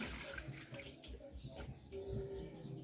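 Food is rinsed in water at a kitchen sink to wash off brine, a quiet running and splashing sound with faint background voices.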